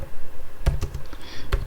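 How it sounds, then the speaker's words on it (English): Fingers tap on a computer keyboard while someone types out an explanation of Python code, giving a few close, quick clicks over a quiet background. "I'm going to type the explanation"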